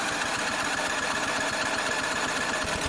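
A Yard Machines snowblower engine runs with the throttle opened a little more, giving a fast, even chugging patter over a dense mechanical hiss, close and steady throughout.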